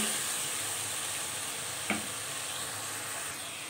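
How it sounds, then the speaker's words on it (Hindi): Potatoes and tomato paste fry together in a pan for a chicken, spinach and potato curry, a constant close sizzle broken once midway by a brief utensil stir. "टमाटरों में भी आलूओं को जो है सही से भूनेंगे।"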